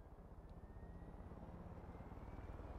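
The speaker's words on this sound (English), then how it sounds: "I'm gonna go ahead and fly away with the chopper for a second." Helicopter flying in the video game Far Cry 5, a steady low rotor thump with a rhythmic pulse, continuous and fairly even in loudness throughout.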